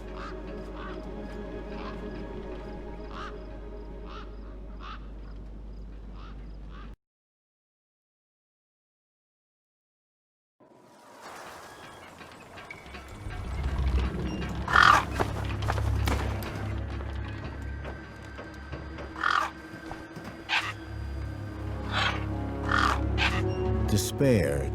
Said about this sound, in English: Then, I heard them. Gang birds, scavengers